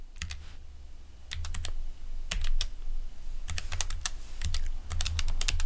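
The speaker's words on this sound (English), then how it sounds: "Then I will type in the password." Typing on a computer keyboard for a WordPress admin login, with clusters of quick, light key clicks separated by short pauses over a low background hum, close up and with no speech.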